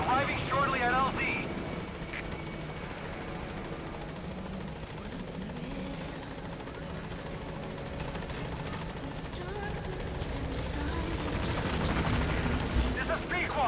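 A helicopter arrives at a landing zone in Metal Gear Solid V, its rotor thump and turbine whine steady throughout, with gunfire and radio-style voices talking over it.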